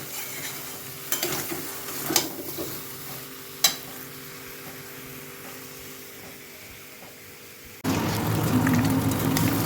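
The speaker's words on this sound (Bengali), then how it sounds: "এখন এটা একটু কষিয়ে নিয়ে আর একটু হালকা করে জল দেবো" Potato curry of boiled potatoes stir-fried in a pan, a steady low sizzle with scattered scraping clinks of a spoon, then a louder, denser frying hiss toward the end as liquid goes in.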